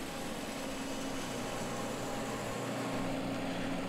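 A 15 horsepower, 1,000 gallon per minute irrigation pump running on gasifier power and throttled to 50 PSI gives a steady, droning mechanical hum with a constant tone and no pauses.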